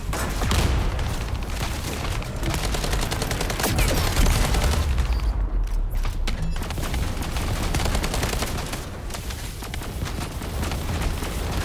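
Dense, continuous gunfire from The First Descendant, rapid automatic bursts layered with booms and impacts, loud and unbroken across the whole stretch with no talk.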